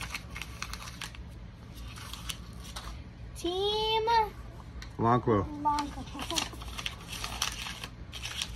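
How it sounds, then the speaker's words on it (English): Paper slips get crumpled up by hand during a lively draft-order event, with crinkling bursts heard under and between children's and adults' chatter. "I'm going to crumple these up a little bit better."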